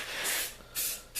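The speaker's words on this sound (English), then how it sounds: "I am out of orange and red spray paint" A can of blue spray paint hisses in two bursts at close range in a workshop while coating a receiver hitch vise, the first longer, the second after a short gap, with a brief third burst starting at the end.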